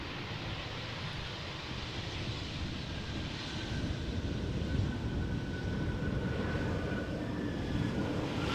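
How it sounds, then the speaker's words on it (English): An airliner landing at Amsterdam Schiphol gives a continuous broad roar of engines and rolling noise, with a thin, faint squeal of the brakes threading through, heard from a distance and without voices. "Squeakiness in the brakes, you can hear it clearly."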